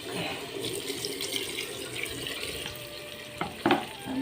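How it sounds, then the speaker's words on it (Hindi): Water runs into a pan of simmering vegetable curry in a home kitchen, a soft continuous pour and light sizzle, with a couple of clinks of a utensil near the end. "अब डालती हूँ पानी।"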